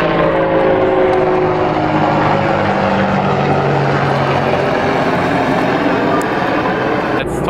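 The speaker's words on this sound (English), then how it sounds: "There is an army helicopter right above me." An army helicopter flies low overhead near a beach in Israel, a loud, continuous rotor thump and engine roar dominating throughout, close and steady with only slight variation.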